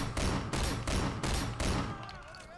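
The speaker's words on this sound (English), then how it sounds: "You can still hear your firefight." Gunfire in a Sleeping Dogs firefight, four loud evenly spaced bursts of shots that then drop away to a quieter tail.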